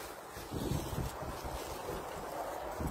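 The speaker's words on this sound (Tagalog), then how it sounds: "Lakas ng hangin!" A strong wind gusts outdoors during a trash pickup and buffets the microphone. It makes a low, rumbling roar that swells and eases but never stops.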